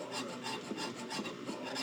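Mower blades being sharpened with a hand file give a steady, continuous rasping scrape at close range, with faint rhythmic strokes and no speech.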